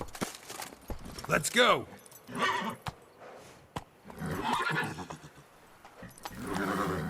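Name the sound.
horse Roach galloping and neighing in video game Witcher 3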